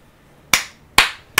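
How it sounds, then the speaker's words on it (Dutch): Three sharp, isolated claps ring out during a live Black Ops 2 gaming session, spaced unevenly about half a second apart, each a crisp slap that quickly fades. "Applaus voor jezelf, Tom."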